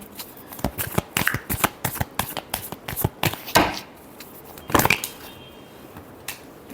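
Tarot cards are shuffled close up in quick, crisp riffling bursts, with short pauses between flurries and a few louder slaps.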